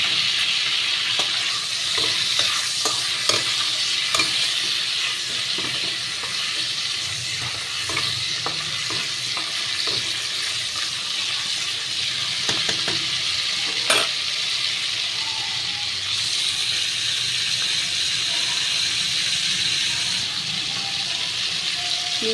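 Dried red chilli and cumin seeds frying in oil, with bay leaves in the pan and prawns fried earlier, give a steady broadband sizzle throughout, punctuated by light stirring scrapes and clicks.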